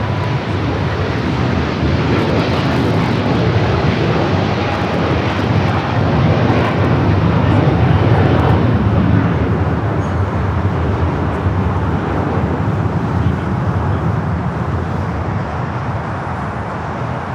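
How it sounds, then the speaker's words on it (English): A jet airliner departing Los Angeles LAX on a flight to Hong Kong, its loud deep roar filling the air and peaking midway before gradually thinning out, with faint road traffic underneath. "That was the flight heading to Hong Kong."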